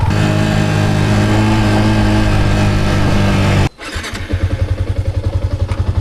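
Motorcycle engine fitted with its restored stock exhaust, loud and close, with a sustained roar that cuts off sharply and settles into a steady, rhythmic idle pulse.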